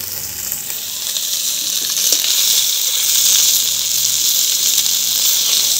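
Singi fish fry in hot oil for a Bengali fish curry with pointed gourd, giving a loud, steady, close-up sizzle that holds evenly throughout with no talking.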